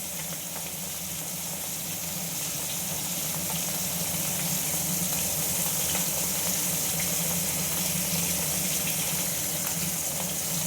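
Two pieces of fish lightly frying in a pan give off a steady, continuous sizzle of hot oil, close and fairly loud, with no pauses and no voices.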